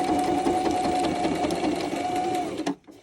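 A sewing machine runs a zigzag stitch across fabric, a steady loud mechanical whir with a fast rhythmic chatter that continues for under three seconds and then stops abruptly.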